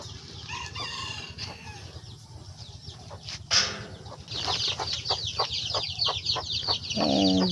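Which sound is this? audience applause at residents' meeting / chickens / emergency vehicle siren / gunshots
chickens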